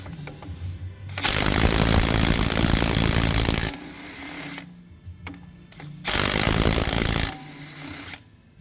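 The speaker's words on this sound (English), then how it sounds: "DeWalt DCF921, my new compact impact. I'm gonna just see if she takes off some Crummins crank bolts." A DeWalt DCF921 compact impact wrench hammers loudly in two long, rapid rattling bursts, about 2.5 and 1.3 seconds long, while removing Cummins engine crank bolts up close.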